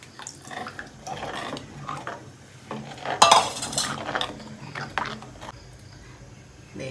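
A spoon stirring curd curry in a cooking pot, with repeated clinks and scrapes of metal against the vessel and a louder clatter near the middle, close by.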